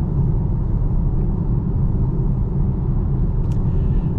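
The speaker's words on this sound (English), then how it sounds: "Now that we're on a little bit more of a rougher road, you can definitely hear a bit more noise coming from the tires." A 2024 Volvo XC40 Recharge Twin Motor AWD rolls over a rough road surface, producing a constant loud low rumble of tire and road noise heard from inside the cabin, with no talking.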